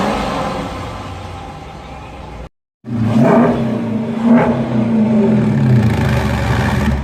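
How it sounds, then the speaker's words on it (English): A 2018 Jeep Grand Cherokee Trailhawk engine with no exhaust fitted, idling and then revving up after a brief cut, a loud close rumble that rises and falls. "Rev it up a little bit. Give a good listen."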